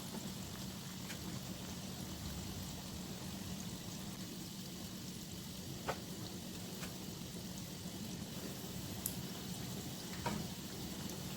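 Cheese balls sizzle steadily in hot oil in a pan, a continuous soft frying hiss with occasional faint pops and crackles, close and alone without voices.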